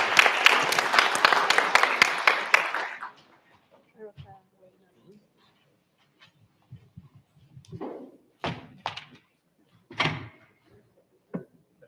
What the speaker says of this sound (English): Please give our mini panelists a round of applause.